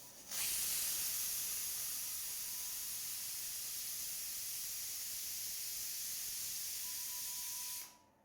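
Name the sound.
pressure cooker whistle releasing steam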